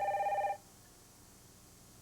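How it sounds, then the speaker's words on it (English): A landline telephone in a residence rings loudly and close for one burst, then falls quiet; the next ring just starts at the very end. "I think that's the phone."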